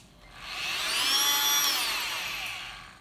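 An oscillating cast saw cuts through a total contact cast, giving a high whining buzz that rises and fades as the blade presses in, steady and close with no talk.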